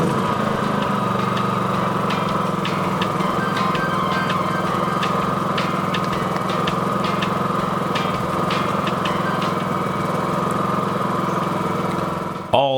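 A Champion 4500W dual fuel generator idles with no load, heard from about 25 feet with its exhaust pointed away. It gives a steady, even engine hum with a faint mechanical buzz, continuous and unchanging throughout.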